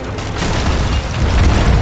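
Cannon fire in Sea of Thieves: a loud, continuous booming rumble with dense blasts running through the whole short stretch, and no talk over it.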